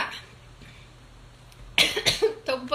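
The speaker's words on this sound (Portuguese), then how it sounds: "Tô com um pouquinho de tosse." A person coughs a few times in quick, harsh bursts, close and loud after a quiet stretch, during a live talk on Hekate symbolism.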